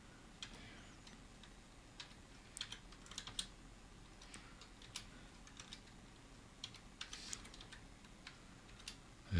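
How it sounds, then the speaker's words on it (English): Faint, irregular typing on a computer keyboard in a quiet room, scattered light clicks and taps at an uneven pace over a soft steady background hiss. "more light makes it easier to type"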